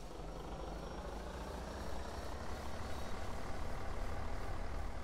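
A diesel railcar in Diesel Railcar Simulator pulls away, its engine a steady low rumble and drone that builds slightly in loudness over several seconds, with no voices.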